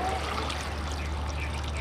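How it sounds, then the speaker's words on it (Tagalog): Water is poured onto chicken in a cooking pot while making chicken binakol, a Filipino chicken dish cooked in buko juice, giving a steady, continuous splashing pour over a low background hum. "Lalagyan natin siya ng tubig"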